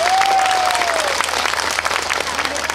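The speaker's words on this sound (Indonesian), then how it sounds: "Tepuk tangan untuk Anda." Audience applause fills a religious anniversary gathering in Kebonsari, Probolinggo, a dense, steady clapping from a large crowd that holds for the whole stretch, with a brief tonal sweep near the start.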